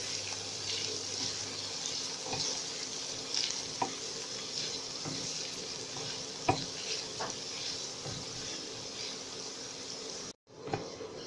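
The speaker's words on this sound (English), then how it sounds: "put the onion and now fry this too" Chopped onion sizzles in a pan on an induction cooktop, a steady close hiss with occasional stirring clatters before a sudden break near the end.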